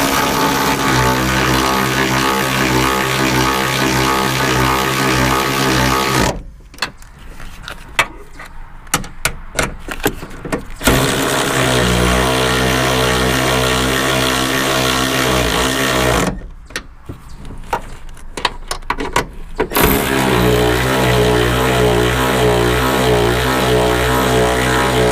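A power tool runs down the rear strut bolts on a 2003 Mazda Protege. It gives a loud, steady pulsing whir that drops out twice for a few seconds of clicks and handling noise before starting again.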